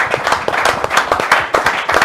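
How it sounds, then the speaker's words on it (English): An audience at a job networking show claps in lively, continuous applause, many hands close and loud throughout. "can I get a warm round of applause for Richard?"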